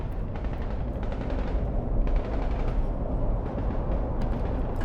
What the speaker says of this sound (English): The sound of the gunshots.